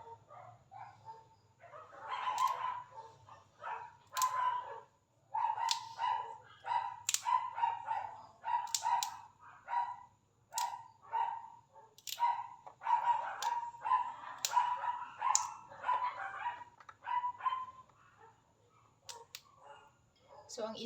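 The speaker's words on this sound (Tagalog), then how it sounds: "ingay-ingay na naman ang aming mga aso sa labas" Several dogs bark outdoors in repeated bursts of yips and barks over about twenty seconds, moderately distant, with short pauses between volleys.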